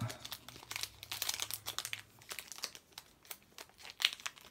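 Crinkly plastic wrapper of a Pokémon card booster pack being torn open and handled, close and quiet, with irregular rustling bursts over a few seconds.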